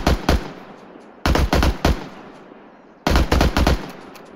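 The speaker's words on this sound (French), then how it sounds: "Fais gaffe, tu te fais tirer dessus là." Automatic gunfire in the Arma 3 military game, loud close bursts of several rapid shots each, separated by short quiet gaps, with no talk over them.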